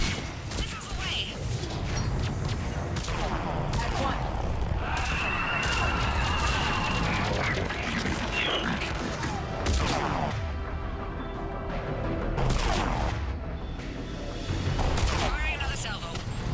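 Missile launches and explosions during a Mass Effect 3 battle over Thessia, a dense, continuous roar of blasts, booms and gunfire-like bursts, with radio chatter and voices over it.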